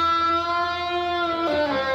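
Electric guitar lick: a clean, sustained bent note held alone, then released into a quick pull-off and slide near the end.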